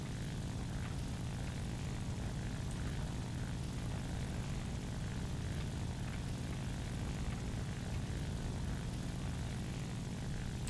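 A Japanese propeller fighter plane accelerating for takeoff in War Thunder, a dense, steady engine-and-propeller roar filling the whole stretch at constant loudness, with no voices over it.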